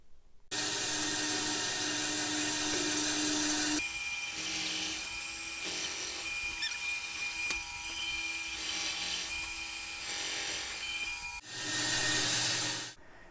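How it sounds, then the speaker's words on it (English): A PantoRouter cuts away a block of wood from the end of a chair crest rail, a loud, close, continuous high whine that shifts in tone as the cut progresses and briefly surges again near the end. "cut away a block of material on either end of the crest rail so that I can put the tenons on the end"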